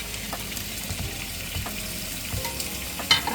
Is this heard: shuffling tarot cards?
no